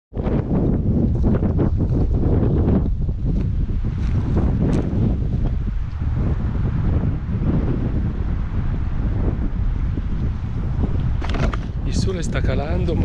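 Strong wind at a lakeside camper parking area roars and buffets the microphone continuously, a loud rushing gust with brief sharp rattles near the end.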